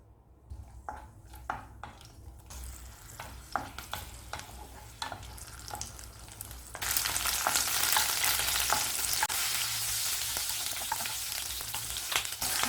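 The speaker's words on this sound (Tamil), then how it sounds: "முதல்ல பச்சை மிளகாயை வதக்கி எடுத்துக்கலாம்." Green chilies frying in sesame oil in a pan for a brinjal chutney, a soft sizzle with occasional stirring clicks that turns into a loud, steady crackling hiss halfway through, heard alone up close.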